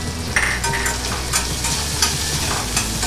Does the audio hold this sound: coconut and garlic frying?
yes